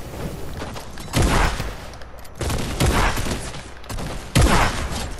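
Three heavy, booming shotgun blasts ring out in a Fortnite match, spaced about a second and a half apart, each loud and close with a short decaying tail.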